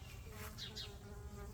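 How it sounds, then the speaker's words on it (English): Honeybee buzzing around purple and pink salvia blooms in an early-spring Texas Gulf Coast garden, a soft steady drone with a brief closer pass, faint against outdoor background noise. "I got a bee coming in, a honeybee."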